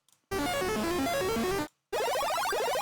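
Two bursts of bright, buzzy retro arcade synthesizer tones, the first a bouncing melodic run, the second a fast rising arpeggio, separated by a brief silence.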